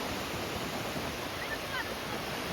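Sea waves at Diveagar beach in Shrivardhan make a constant, even wash of surf that blankets the short stretch, steady and fairly distant, with no clear voices.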